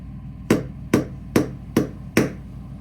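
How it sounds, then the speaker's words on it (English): The spine of a Drachenader tanto knife is struck five times at an even, steady pace, each whack a sharp, close, solid knock that fades quickly. "a couple of not crazy spine whacks"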